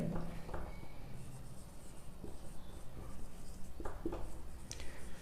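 During a trigonometry lesson, a pen writes in soft, intermittent strokes and taps, quiet and close against a low background hum.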